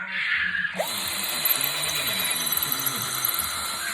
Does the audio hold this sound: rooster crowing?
no